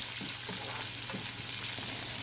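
Shallots and crushed garlic sautéing in a pan, giving a dense, even frying sizzle at close range with soft stirring scrapes underneath.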